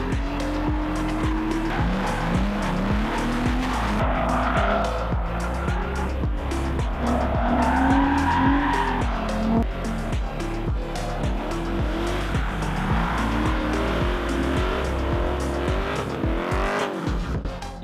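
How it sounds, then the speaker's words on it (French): Drift cars sliding past with long, loud tire squeals and roaring engines, several rising and falling screeches overlapping close by at an event, steady noise throughout with no talk. "avec les voitures qui driftent derrière nous"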